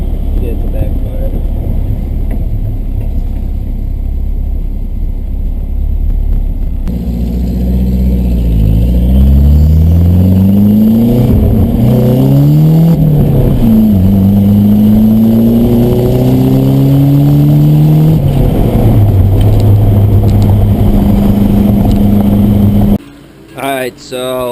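Rebuilt engine revving repeatedly while its timing is adjusted during a test-and-tune session, rising and falling in loud surges close by, with voices talking over it throughout and a brief break near the end.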